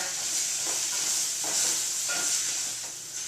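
Asparagus stems browning in a hot pan give a steady, close sizzle and hiss with a few soft stirring scrapes. No one speaks.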